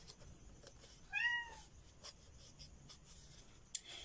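A cat gives one clear, rising-and-falling meow, close and fairly loud, over a quiet room with faint scratching and rustling around it.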